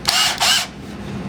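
A power drill with a 3/16-inch bit bores a through hole in wood for a trestle table, giving two short, loud whirring bursts close by with a low rumble between them.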